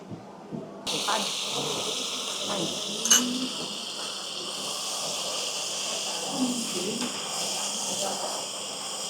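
Sizzling claypot dishes of chicken and water spinach with shrimp paste arrive at a table in a Guangzhou eatery, their hissing and steaming steady and fairly close while people talk.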